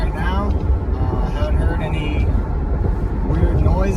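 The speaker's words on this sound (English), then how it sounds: "Okay, so I'm driving right now." A car drives along a road with a constant low rumble of engine and road noise heard from inside the cabin, while someone talks over it throughout.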